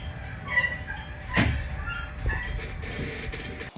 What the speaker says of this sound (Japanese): 電車は減速